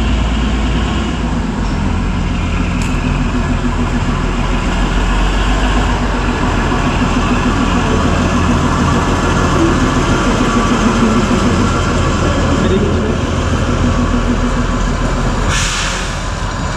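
A Kalka Shimla railway train, the Him Darshan Express, runs steadily near Barog station, a constant loud rumble of wheels and carriages with rhythmic rail clatter throughout and no talking.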